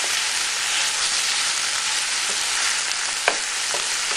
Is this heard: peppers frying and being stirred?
yes